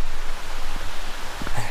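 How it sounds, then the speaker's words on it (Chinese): A small mountain stream flows below a dam on a forested hillside, making a steady, even rushing hiss that lasts the whole brief moment with no talk. "从这边开始，我又听到了小溪的声音。"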